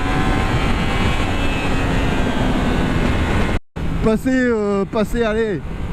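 A Yamaha MT-10 motorcycle engine roars loud and steady, cuts out briefly, then revs high in repeated rising sweeps during a wheelie.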